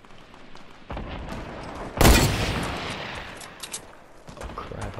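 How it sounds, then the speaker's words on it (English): A hunting rifle fired in a video game, one sharp loud crack partway through that rings out over game ambience, with quieter rumbling action before and after. "I'm just gonna shoot him with my hunting rifle"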